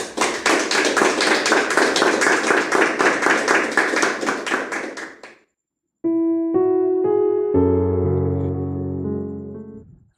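A church congregation claps in praise, dense rhythmic applause for about five seconds that fades out, then sustained electronic keyboard chords take over after a short silence.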